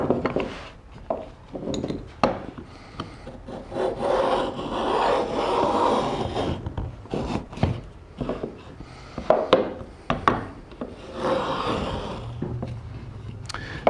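Router plane cutting thick wood shavings, rough scraping and rasping strokes repeated in bursts, close up, with brief knocks between passes and no talking.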